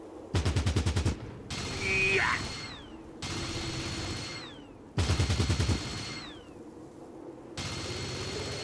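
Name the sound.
burst gunfire in video game Fallout Tactics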